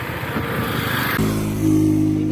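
A motorbike engine idles steadily, close and loud, then shifts to a smoother, higher drone partway through, running continuously without any speech.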